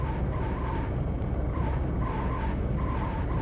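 Cirrus SR20 light aircraft braking hard on a runway, a continuous gritty rolling noise with repeated squealing tire tones rising and fading under the steady engine hum.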